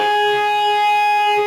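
High-gain distorted electric guitar sustains ringing harmonics for a brief moment, steady and loud without a break, from a riff.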